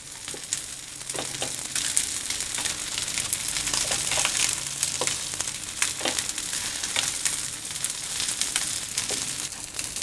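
Sweet corn patties fry in oil on a flat tava, giving a steady crackling sizzle with scattered sharper pops throughout, close and fairly loud, with no voices.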